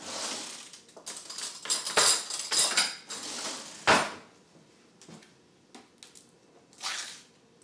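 Fresh sour cream is spooned into a bowl with soft, wet squishes. Gentle clinks of a spoon against the bowl come as a short series of close, quiet scoops, with no talking.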